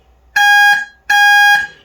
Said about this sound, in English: they'll also get a little buzzer to tell that they've pressed that